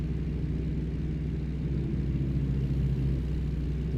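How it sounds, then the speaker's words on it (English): Kenworth K100E truck slowing with its retarder engaged in American Truck Simulator, a steady low rumbling drone that stays even and moderately loud throughout, with no talk. "that one's just the retarder kicking in to slow us down"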